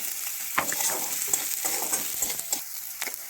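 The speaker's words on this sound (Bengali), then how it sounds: "ব্যাস, এবার এগুলোকে একটুখানি ভাজবো" Chopped garlic, ginger and green chili sizzle in a hot pan for an egg chop recipe, a steady close frying hiss broken by a few soft stirring scrapes, with no voices.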